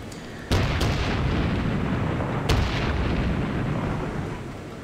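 Naval gunfire from an enemy cruiser in a warship video game: two heavy booming salvos a couple of seconds apart over a constant low rumble of engine and sea noise, no voices.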